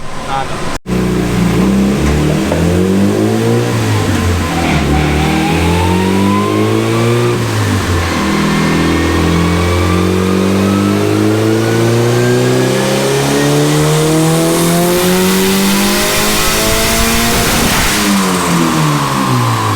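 A turbocharged Honda Integra revs hard on a dyno, climbing through repeated rising engine sweeps that briefly drop back and build again, loud and close over nearly twenty seconds.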